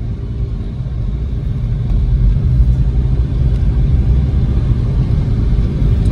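A car engine with a manual transmission rumbles low and steady from inside the cabin during a driving lesson, growing slightly louder partway through. No one speaks over it.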